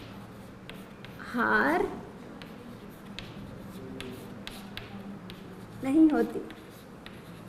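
Chalk or marker writing a lesson title on a classroom board, two short scratchy strokes separated by a pause, under a teacher speaking Hindi.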